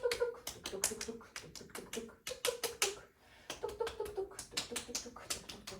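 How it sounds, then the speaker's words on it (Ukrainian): Rapid light taps on a swaddled baby's arms and legs, a quick uneven patter of soft pats repeating close by with short pauses between bursts. "Зазвичай я її простукую ось так ось по ручкам і по ніжкам."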